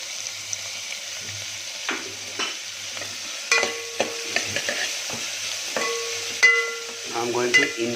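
Chopped onions frying in masala in a pan, with a low sizzle under repeated clinks and scrapes of a spoon stirring against the pan, close and fairly loud.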